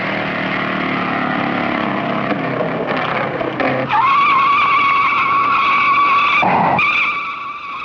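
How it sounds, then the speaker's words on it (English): A race car at the 1956 Indy 500 on old 16mm film sound, a loud engine and tire noise sweeping past, then a harsh, sustained skidding squeal as the car slides, with a brief crunching burst near the end. "A jolting crash, and Jimmy Daywalt skids to a stop"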